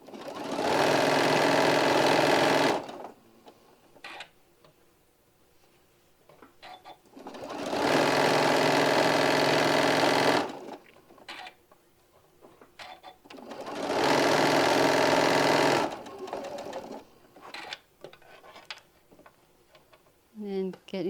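A sewing machine stitches fabric down in three loud, steady runs of rapid mechanical whirring, with quieter handling noises and pauses between them.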